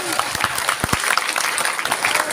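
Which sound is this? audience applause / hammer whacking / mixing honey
audience applause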